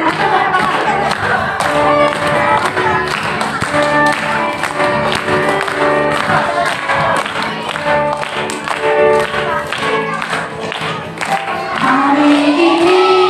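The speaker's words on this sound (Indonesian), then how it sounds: "Tepuk tangan." A church congregation at a Christmas service claps loudly and rhythmically along with singing and music, the beat steady and close throughout.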